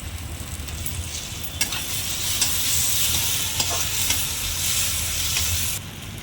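Spice masala with tomato sauce and a pinch of garam masala stir-fried in a pan for pomfret curry: a steady close sizzle with scraping stirs and a few sharp spatula clicks, ending abruptly.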